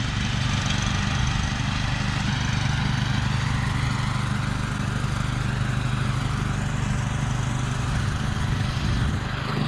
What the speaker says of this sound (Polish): A kosiarka dalej kosi.